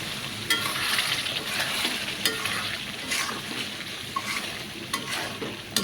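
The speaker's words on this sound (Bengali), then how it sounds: "মাংসটাকে একটু ভালো করে কষায় নিব।" Beef with spices stir-fried in a pan, giving a steady close sizzle with repeated scraping stirs throughout and no talk.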